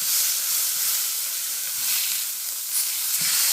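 Steak frying in a hot pan, turned several times while cooking through to well done, gives a steady, close, bright sizzling hiss that swells and eases slightly throughout, with no voices.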